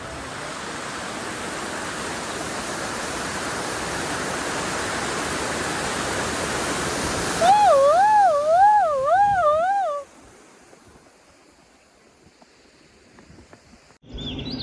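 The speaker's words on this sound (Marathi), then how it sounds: "आता एक नदी लागली" A river crossing the trail on the trek to Kalsubai peak gives a steady, broad rushing of water for about seven seconds. A wavering electronic tone then rises over it before both cut away to near silence.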